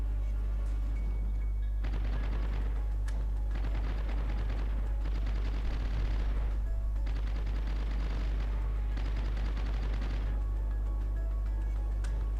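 Fighter squadrons shooting in a dogfight in World of Warships, heard as long sustained bursts of rapid machine-gun fire over a constant loud engine drone.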